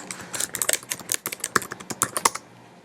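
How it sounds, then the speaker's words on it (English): Password being typed on a computer keyboard, a quick close burst of crisp key clicks for about two and a half seconds before falling silent. "I have to type my password"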